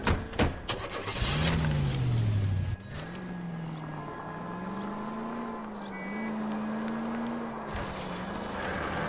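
Car engines roar during a car chase in the game L.A. Noire, opening with sharp knocks, then a revving engine rising and falling steadily in pitch, close and continuous, with no voices.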